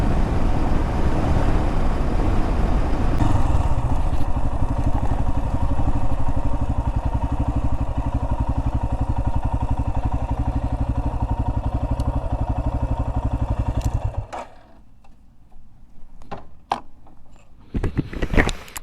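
Motorcycle engine during an offroad ride, a loud steady drone that holds for about fourteen seconds, then cuts out, leaving quieter scattered clicks and knocks.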